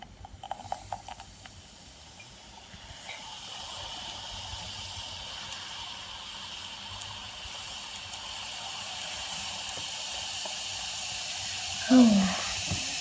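Baking powder and vinegar fizzing in a kids' fire extinguisher experiment, a soft steady hiss that builds and holds, a few faint knocks at the start and a brief squeak near the end.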